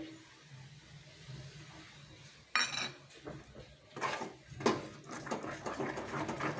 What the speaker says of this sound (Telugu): ఇది కలపడమే ఇంపార్టెంట్ అడుగులు పట్టకుండా ముద్ద అవ్వకుండా అలా కలుపుతూ ఉండాలి